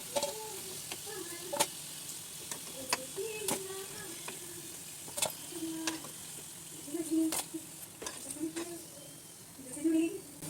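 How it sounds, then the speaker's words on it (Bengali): Singaras (samosas) fry in a shallow layer of hot oil in a home kitchen, giving a steady close sizzle scattered with sharp ticks and pops while faint voices and tones drift in the background. "এইভাবে করে সবগুলো ভেজে নিচ্ছি"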